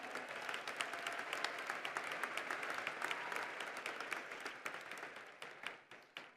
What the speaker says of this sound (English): Thank you for that round of applause to acknowledge them and their service to Maricopa Community Colleges.